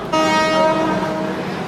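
The 22208 AC Express pulls out of Kollam with a long, loud horn blast over a steady rolling rumble of the rails. The horn is close and fades slightly as the train keeps moving.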